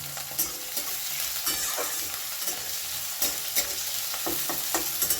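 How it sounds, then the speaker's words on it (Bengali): Grated carrot stirred into poha in a frying pan, close repeated scraping strokes of a spoon against the pan over a constant hiss of frying, no speech. "কুচিয়ে রাখা গাজর ভালো করে এটা আমি মিশিয়ে নেব"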